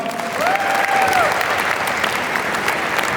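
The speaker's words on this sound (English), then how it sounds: "big round of applause for Rupal" Warm crowd applause at a corporate holiday party in a New York venue, sustained clapping from many hands with a faint tonal whistle briefly rising above it, no talk.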